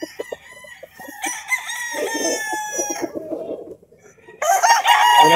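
Chickens and roosters crow and cluck close by, several overlapping crows rising and trailing off in bursts, with a brief lull before another loud round.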